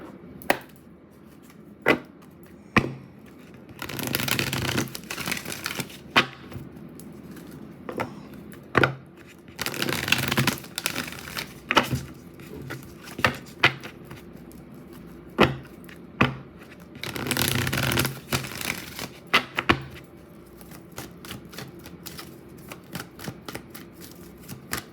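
Oracle cards are shuffled by hand in repeated bursts, each a riffling flutter with sharp taps and knocks in between, close and fairly quiet with no talk.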